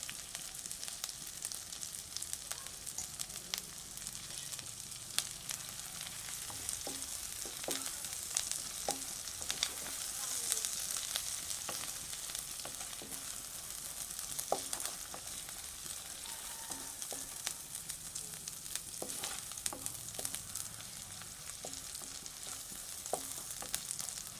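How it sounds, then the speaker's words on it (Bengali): Ginger sautéing in oil with a pinch of salt for pulao, a steady close frying sizzle with occasional clicks of a spoon stirring the pan, no talking. "অনেকক্ষণ ধরে কষানো হয়ে গেছে, এখন আর গন্ধটা আসে না আদার"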